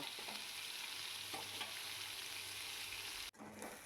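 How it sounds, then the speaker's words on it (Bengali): Sliced onions sizzle steadily in hot oil in a pan while being fried golden brown for a Bengali aloo peyaj posto, a constant close crackle that cuts off abruptly near the end. "এই পেঁয়াজটাকে গোল্ডেন ব্রাউন করা পর্যন্ত ভেজে নেব"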